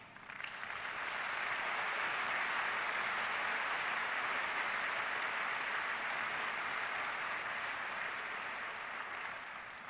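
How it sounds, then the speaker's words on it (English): Sustained applause from a large crowd at a memorial honoring fallen Navy and Marine service members, rising quickly and holding steady for several seconds before easing slightly. "Please, a round of applause for them now."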